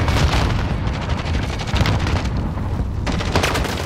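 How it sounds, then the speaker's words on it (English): Heavy gunfire in a video game, a continuous barrage of loud booming shots and blasts filling the whole stretch with no pauses. "I don't know who's shooting at me."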